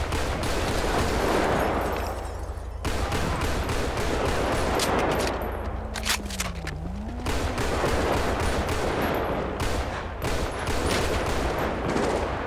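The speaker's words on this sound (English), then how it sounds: "Shots fired." Heavy, sustained gunfire rages in GTA 5 with the LSPDFR police mod, a dense crackle of overlapping shots broken by short pauses, with a brief wailing tone rising and falling partway through.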